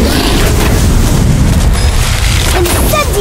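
A loud, sustained explosive roar from the Erumpent spell in the Harry Potter: Magic Awaken video game, a dense low-heavy boom rumbling continuously for about three seconds, with a few faint tonal effects near the end.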